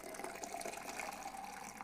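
Bubbly homemade kombucha fizzing in an open jar after a stir, a steady soft hiss of popping carbonation, close and quiet with no talk.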